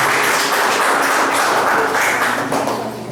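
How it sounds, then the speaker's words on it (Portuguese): Church congregation applauding together during an evening service, a dense, steady wash of many hands clapping that fills the room for about three seconds and eases slightly at the end. "Vamos aplaudir o Senhor e a sua palavra"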